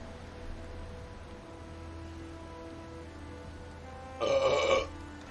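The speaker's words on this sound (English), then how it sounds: "Almost a perfect burp." Near the end a single loud, rasping burp bursts out for about half a second after several seconds of quiet background hiss.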